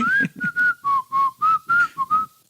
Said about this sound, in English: There's just something creepy about whistling.